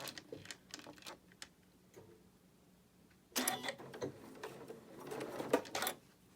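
A home sewing machine stitches quilt block fabric pieces together, first in short stop-start bursts of rapid needle clatter, then in a louder, longer continuous run, heard up close in a quiet room.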